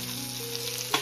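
Fish frying in oil in a pan, a steady close sizzle with a short brighter crackle near the end.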